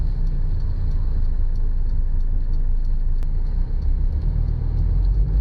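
A 1982 Mercedes 300D diesel rumbles steadily on a road test, with a low, continuous engine and road drone heard from inside the car and no talking.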